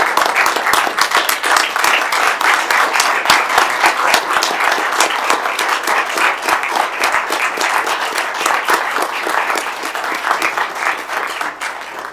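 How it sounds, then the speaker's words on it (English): A standing audience at a commission meeting applauds loudly and steadily, dense clapping from many hands sustained for about twelve seconds with no voices over it. "would you stand with me for just a moment and give this man a round of applause?"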